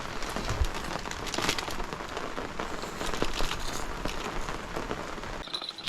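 Rain falls steadily beside a river on a trout fishing trip, a dense patter of drops striking nearby surfaces at moderate loudness throughout.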